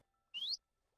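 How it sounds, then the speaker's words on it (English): In the Minecraft video game, a bird gives one short, clear rising chirp, bright and isolated against near silence. "Bird."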